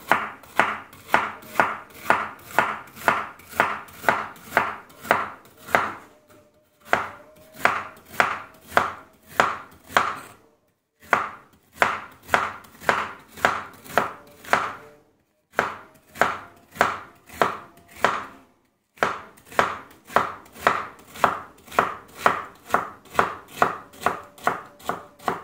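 A knife slicing through bitter gourd on a cutting board, rapid even rhythm of crisp close chops in bursts of about a dozen strokes separated by short pauses, with no talking.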